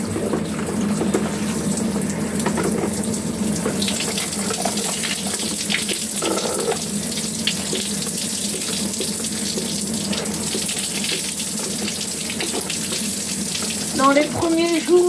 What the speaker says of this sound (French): D'abord, je mets un peu d'eau.